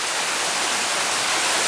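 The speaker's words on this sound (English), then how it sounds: "Finally, we finally get a little rain around here." A light rain shower falling outdoors, a dense, even hiss of drops that holds steady and fairly loud throughout with no voices over it.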